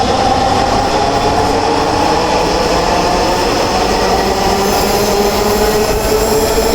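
Ride aboard a Dhaka Metro Rail train, with a steady loud rumble of the carriage and wheels running continuously throughout, plus a faint high whine, and no talking.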